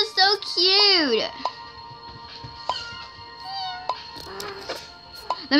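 Cartoonish meows from cats in a video game, a couple of rising and falling cries up front and more scattered chirps later over soft game music, with a voice talking and imitating the meows.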